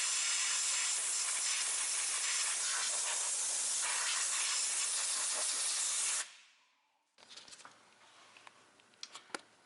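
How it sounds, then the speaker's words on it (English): A steady, loud hiss of compressed air blasts out a bolt area on a 2004 Ford Explorer 4X4 for several seconds, then cuts off, leaving faint clicks and tool taps. "let me get some air and blow that out"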